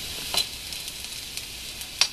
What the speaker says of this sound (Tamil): இப்போ இந்த பூண்டு வந்து நல்லா ப்ரௌன் ஆகிடுச்சு பாருங்கள், நல்லா வறுப்பட்டுருச்சு